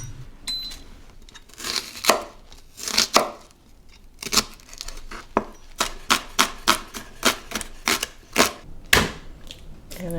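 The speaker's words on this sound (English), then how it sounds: "We're going to chop up our shallots." A knife chops shallots on a cutting board in crisp, close strokes, first scattered and then settling into a quick, steady rhythm, with no talking.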